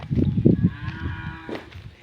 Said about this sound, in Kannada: ನಮ್ಮ ಸಿದ್ದಣ್ಣ ಗು ಗುಡ್ಡಕ್ಕೆ ಹಸುಗಳು ಕುರಿಗಳು ಇವೆಲ್ಲ ಹೋಗ್ತಾ ಇದೆ ಮೇಯ್ಸೋಕ್ಕೆ